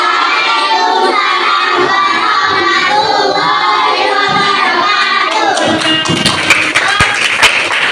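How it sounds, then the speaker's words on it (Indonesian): An audience of schoolchildren and adults at a classroom STEM activity bursts into loud, sustained clapping and shouting, with sharp individual claps growing more distinct toward the end. "Oke, tepuk tangan untuknya."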